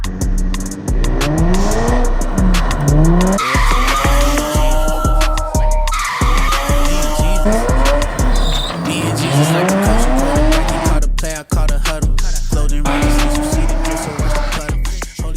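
A stock automatic car with an open differential drifts, its tires squealing loudly and continuously while the engine revs and rises and falls in pitch, close and sustained throughout.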